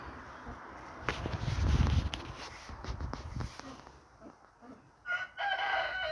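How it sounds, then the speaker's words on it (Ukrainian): A loose chicken in a backyard garden clucks faintly in short bursts amid quiet outdoor sounds, with a brief crow-like call near the end. "курка одна гуляє, втекла."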